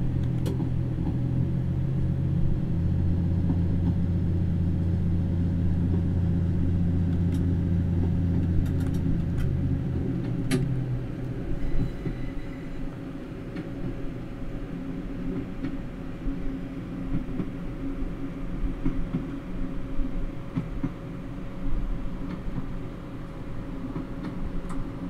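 A diesel train on the Looe Valley Line in Train Simulator accelerates with a steady, droning engine rumble and a low hum, then shifts to rolling wheel-on-rail rumble with faint clicks.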